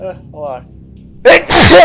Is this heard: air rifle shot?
no